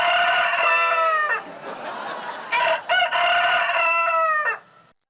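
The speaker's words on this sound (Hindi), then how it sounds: "मेरा मुर्गा जाग गया है।" A rooster crows loudly and close, two long drawn-out cock-a-doodle-doo calls with a brief clucking break between them, set in a comedy sketch.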